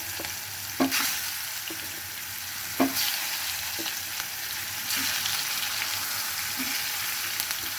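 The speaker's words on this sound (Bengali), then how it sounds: "ভেজে নিচ্ছি করলাটা" Bitter gourd fries in oil left over from frying potatoes, a strong, continuous sizzle close by, punctuated by occasional stirring knocks from a spatula.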